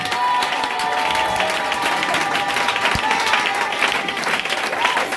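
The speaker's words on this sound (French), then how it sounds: "Acclamez encore puissant" A church congregation applauds, producing a dense, continuous wash of clapping from many hands that holds steady throughout, with faint voices mixed in.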